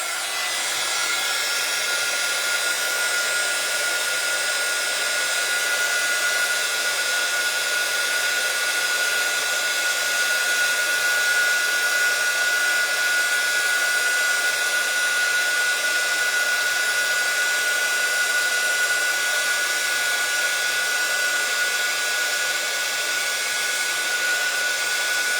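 A heat tool blows hot air over a Christmas tile-effect craft card, making a continuous, loud, even whirring hiss with a steady whistling tone that runs unbroken and alone throughout.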